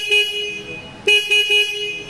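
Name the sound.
Bajaj Pulsar N250 motorcycle horn honking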